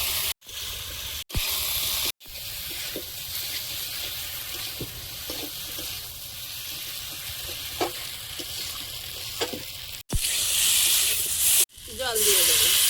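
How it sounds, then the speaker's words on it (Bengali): Potatoes being fried with ground spice paste for a fish-and-potato curry give off a steady, fairly loud sizzle. Scraping stirring strokes recur through it, with a few brief near-silent breaks. "বাটা মশলাটা দিয়ে ভালোভাবে আলু কষিয়ে নেবো।"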